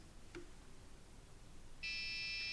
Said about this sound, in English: So for this reason, it's doing this beep